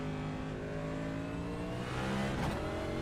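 A NASCAR Cup race car engine in a racing video game drones at high revs on a qualifying lap, its layered harmonic tones holding steady, then shifting briefly as the pitch dips and climbs again.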